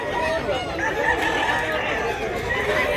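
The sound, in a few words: gamefowl roosters at a market in Cebu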